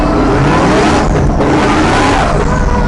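A very powerful drift car sets off, its engine roaring loud and close as it accelerates hard, a continuous dense rumble with rising revs and no speech.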